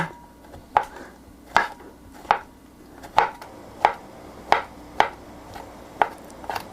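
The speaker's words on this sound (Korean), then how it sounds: "버섯을 하나만 준비해서 썰어주세요" A single mushroom is sliced with a knife on a cutting board, producing about ten crisp, evenly spaced chops close by, roughly one every 0.7 seconds, with quiet gaps between and no voices.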